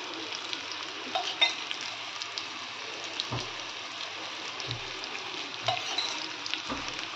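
Yam slices shallow-fry in oil with a soft, continuous sizzle, and a few low scraping knocks from a spatula break through now and then; no one speaks.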